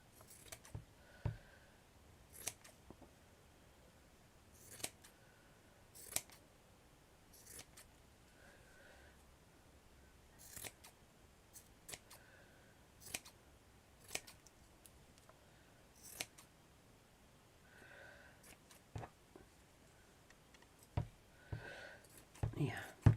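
Scissors snip through a fabric scarf as it is trimmed into a flower shape, giving quiet, close crisp cuts in short irregular bursts with pauses between, set against a very soft, hushed background.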